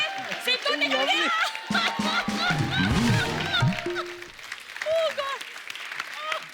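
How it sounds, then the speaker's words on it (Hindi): A studio audience on a comedy talk show bursts into applause and cheers, the clapping mixed with overlapping voices and laughter throughout. "ठोको ताली।"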